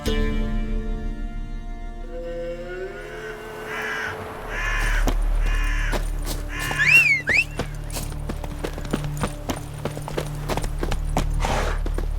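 A horse's hooves clip-clop in a steady trot on a Witcher 3 road, close and rhythmic, joined by loud cawing crows partway through, with soft ambient tones at the start.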